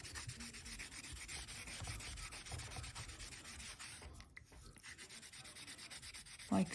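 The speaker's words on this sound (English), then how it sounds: "So just keep sanding and feeling the surface." Hand sanding of an encased polymer clay pendant gives a continuous close, gritty rubbing that scrapes steadily back and forth, dipping briefly near the end before a small knock.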